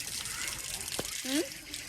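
Water running from a tap into a container, with a voice and other talk over it.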